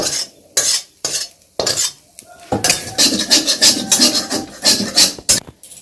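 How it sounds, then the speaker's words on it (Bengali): Vegetables, including pre-fried cauliflower, tip into a kadai for vegetable navratan korma, then scrape and stir in bursts of loud metallic scraping and clatter, close and alone. "এবারে আমি সমস্ত সবজিগুলো ঢেলে নিচ্ছি"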